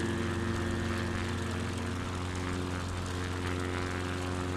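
A propeller airplane's engine drones steadily at close range through a takeoff run in a flight simulator game, with a constant loud hum and layered tonal whine that holds without a break.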